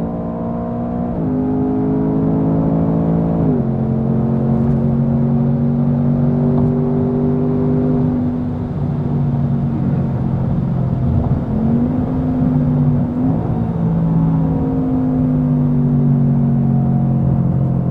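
A Ford Mustang Dark Horse V8 revs hard and accelerates on an arena track. The engine's loud, close tone climbs through several gear changes, dipping briefly at each shift before pulling again.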